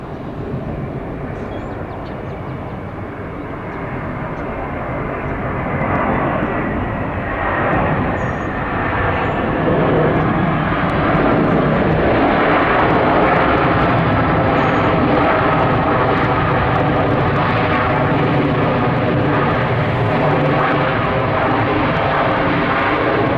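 A heavy jet airliner lands on runway 26 right at Atlanta International Airport, its engine roar swelling from a steady rumble into a loud, sustained broadband rush that holds to the end.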